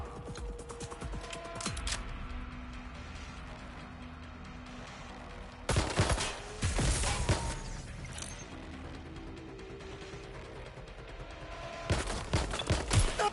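Bursts of gunfire in the video game Watch Dogs Legion, with loud clustered volleys around six seconds in and again near the end, separated by quieter stretches of game ambience.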